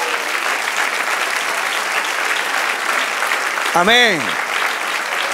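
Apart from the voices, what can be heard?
church congregation applause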